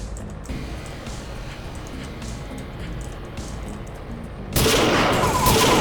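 Bursts of gunfire from enemies in the video game Dead Trash, a steady, dense spray of shots with a louder, harsher surge near the end.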